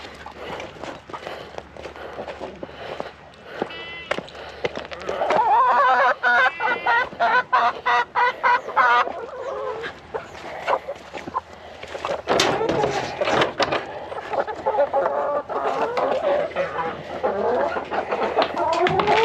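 Chickens cluck and squawk nearby at feeding time while footsteps shuffle and people talk intermittently over the busy farmyard noise.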